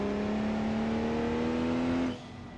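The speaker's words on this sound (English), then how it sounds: "I think I'm revving it a bit hard." A damaged car engine in the BeamNG.drive racing game, on the Pikes Peak hill climb, revs hard at a steady high pitch for about two seconds, then abruptly drops off to a quieter idle.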